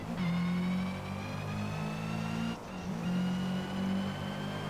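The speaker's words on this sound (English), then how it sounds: "I love the noise of the cars." A loud, steady car engine in the racing game Forza Motorsport drones continuously with a sustained pitch, dipping briefly before revving back up.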